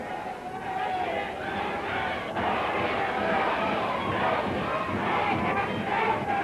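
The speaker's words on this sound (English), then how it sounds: "The crowd yelling, break it." A professional wrestling arena crowd yells and roars steadily throughout, a dense, loud wall of many voices with no single voice standing out.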